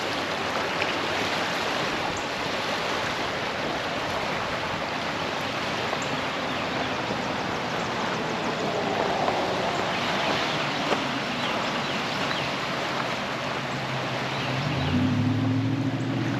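Floodwater after a hard April rainstorm rushing steadily past a bridge, a continuous broadband roar of flowing water that holds even throughout, with a slightly louder swell near the end.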